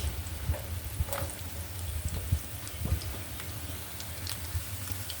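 Sliced onions fry in hot oil in a pan, a steady crackling sizzle with scattered pops and light clatter, close and continuous, with nobody speaking.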